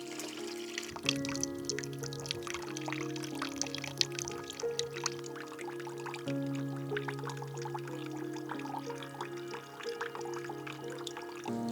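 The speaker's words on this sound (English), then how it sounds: "you've got a nice little bit for the water to drip onto" Water from a homemade dripping bird bath falls onto rocks, giving a steady trickling patter that runs throughout at moderate level, with gentle background tones underneath.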